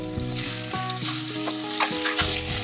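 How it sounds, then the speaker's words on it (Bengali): Boiled eggs fry in oil spiced with salt, turmeric and Kashmiri chili powder, sizzling loudly and continuously while a utensil stirs and scrapes the pan up close, with no talking. "এবার ডিমগুলোকে 2-3 মিনিট ভালোভাবে ভেজে নেব"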